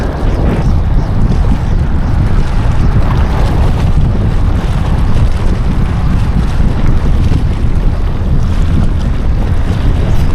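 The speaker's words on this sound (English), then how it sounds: "It's so friggin' windy over here." Strong wind buffets the microphone with a constant heavy roar and rumble, unbroken and loud throughout.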